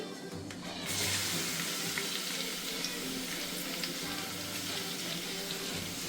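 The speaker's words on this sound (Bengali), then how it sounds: "এখন পেঁয়াজ কুচি আমি প্রায় 2 মিনিটের মতো হালকা একটু ভেজে নিব" Half a cup of chopped onion hits the hot pan and a loud, dense sizzle erupts at once, then holds steady and close for several seconds with no voices over it.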